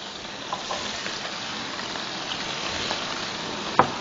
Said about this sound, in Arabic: حنحط قطع انا فليفلي خضراء وحمراء شوي صغير يتقلوا بس معهم